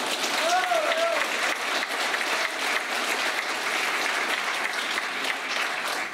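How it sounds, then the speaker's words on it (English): A full audience claps steadily and loudly throughout, a dense sustained round of applause with a brief whistle-like voice tone near the start. "I didn't expect a round of applause"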